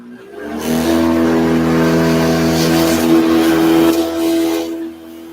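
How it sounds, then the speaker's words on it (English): A kitchen blender runs steadily at high speed for several seconds with a loud, strong motor whine, starting abruptly and winding down near the end, with no talking over it. "My blender's gonna fly off on me"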